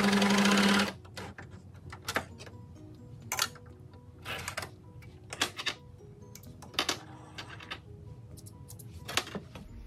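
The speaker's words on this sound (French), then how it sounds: "On a également la possibilité de coudre ce qu'on appelle un point de chaînette, un point de sécurité à une seule aiguille." An overlock coverstitch machine sewing a single-needle chain stitch: a brief loud whirring run of stitching at the start, then scattered mechanical clicks and short bursts as the machine is handled.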